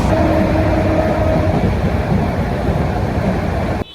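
Cox's Bazar Express train running on rails between Dhaka and Cox's Bazar makes a loud, continuous rumble with rolling rattle and a faint whine, heard steadily from on board before cutting off abruptly near the end.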